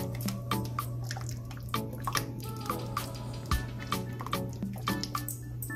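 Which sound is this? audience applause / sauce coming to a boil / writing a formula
sauce coming to a boil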